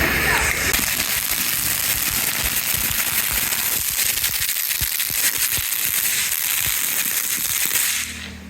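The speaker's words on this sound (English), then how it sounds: "I thought it was a bottle rocket." Bottle rocket fireworks going off in a backyard, a dense run of sharp crackling pops and bangs lasting several seconds, loud and close, with excited voices faintly underneath.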